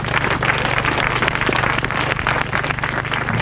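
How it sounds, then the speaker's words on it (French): Applause from a crowd gathered at a trail running race, a dense steady patter of clapping held at an even level throughout, with no voices over it. "On peut vraiment les applaudir."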